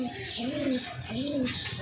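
Pigeons coo close by in two rounded, throaty coos, each a soft rising-and-falling call, with faint chirps and room noise in between.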